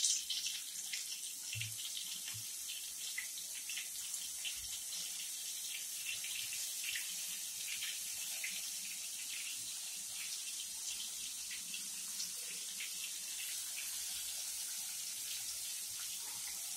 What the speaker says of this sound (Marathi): अशा पद्धतीने हे बोंबील आपण या तेलामध्ये फ्राय करतो आहोत